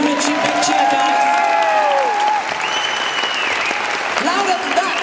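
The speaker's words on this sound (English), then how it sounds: "Give them a cheap big cheer, guys." Dense applause and cheering from an audience for the South Shields Serenity Singers choir, steady and loud throughout with whoops and a voice rising over the crowd.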